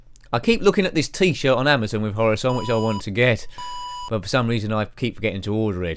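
Electronic beeping from the ZX Spectrum 48K game Horace Goes Skiing: two short, steady, high tones sound between and under continuous talk by a man.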